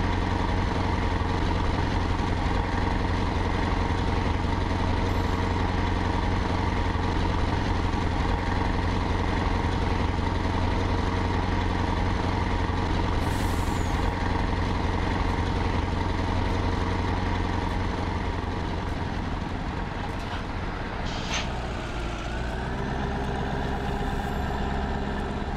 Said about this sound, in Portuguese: Já vou levar esse caminhão aqui lá na roça onde a gente vai plantar